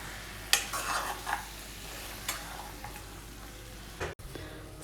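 Ginger chicken being stirred and mixed in a hot pan, with a soft sizzle underneath and several scraping clicks of a spoon against the pan, close and moderately loud.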